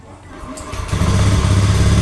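A Honda Beat scooter with a blinking MIL warning light cranks briefly, then catches and settles into a steady, fairly loud close idle with a light buzzy engine note and no talk.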